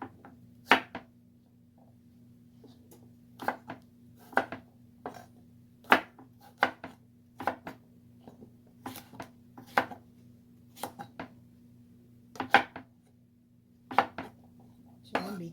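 A knife cuts vegetables on a cutting board in a home kitchen, making sharp, irregular chops that land close by, separated by pauses over a low steady hum.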